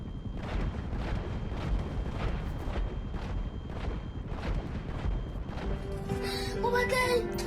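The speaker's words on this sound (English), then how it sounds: "So I go back to the gunner seat and I shoot this man down." Sustained heavy gunfire from an Akula helicopter's gunner seat in GTA 5 Online, a steady pounding rhythm of shots with booming impacts, ending in a bright crash or explosion near the close.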